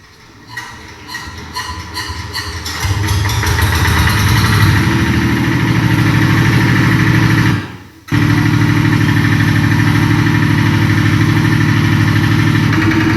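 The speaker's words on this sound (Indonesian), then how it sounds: "Saya contohkan cara menghidupkan traktor." A tractor engine cranks with rapid ticking, catches and settles into a loud, steady idle, briefly cutting out before chugging on evenly.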